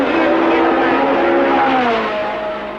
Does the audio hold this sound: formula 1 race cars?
yes